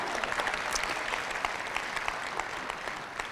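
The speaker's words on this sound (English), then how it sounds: "Round of applause" A seminar audience claps for both sides in a brisk, continuous round of applause, moderately loud and even throughout.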